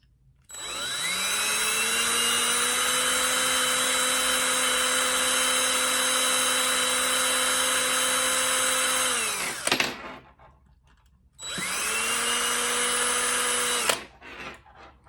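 A power drill bores into a wooden birdhouse, a loud steady whine that runs for about nine seconds, cuts off, then starts again for a second shorter burst, with no talking.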